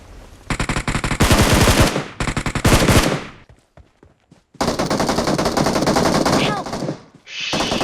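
Loud bursts of automatic gunfire from a shooting video game come in two volleys separated by a short lull, with player voices heard in between.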